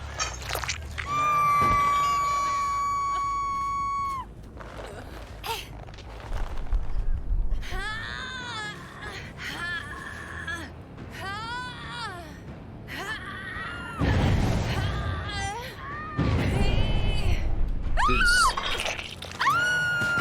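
Survivors screaming in the video game Dead by Daylight, several separate high wailing cries and pained shrieks in bursts across the stretch, mixed with game effects and crashing noises.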